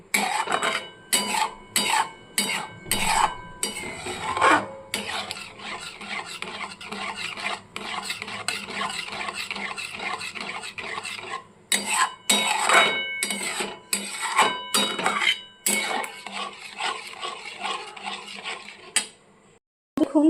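A spoon scrapes and rubs inside a pot as palm-fruit rice kheer is stirred and thickened over the flame, in irregular bursts of rasping strokes with short pauses, close and fairly loud.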